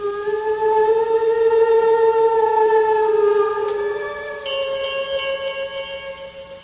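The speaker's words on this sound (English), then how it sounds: "I'm trying to see where that bell came from." A ringing bell sound effect in an old radio mystery drama, heard as a sustained, loud tone with a slowly shifting pitch and a brighter chime joining partway through, alone without speech.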